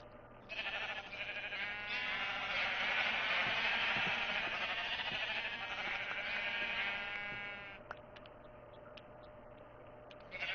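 A long, loud Minecraft sheep bleat, drawn out and wavering, followed by quieter background noise.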